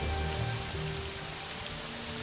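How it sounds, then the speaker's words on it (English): Steady rain in the video game Morrowind, an even, dense hiss of drops striking surfaces, continuous and fairly loud with no voices. "And of course there is rain."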